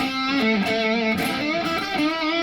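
A Godin Session HG electric guitar with its humbucker split to single coil plays through distortion, a few sustained, gliding notes ringing out alone with a thick, saturated tone.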